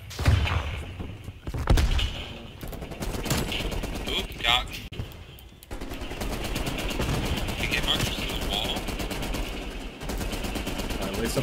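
An M60 machine gun rattles in Call of Duty, long rapid automatic bursts firing through a wall, loud and dense with brief pauses, while a player shouts excitedly over the shooting.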